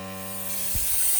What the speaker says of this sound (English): So I'm going to prime up the compressor first.